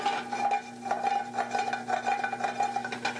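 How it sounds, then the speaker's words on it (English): Wild chanterelle mushrooms sautéing in a pan, heard as a steady run of light clinks and scrapes from a utensil stirring against the pan, close and moderately loud, with no voices. "we're just going to saute the mushrooms for a couple of minutes"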